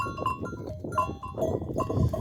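Several sheep bleating close by while out grazing, repeated overlapping calls with short gaps, loud and clear over a faint outdoor background, no talk.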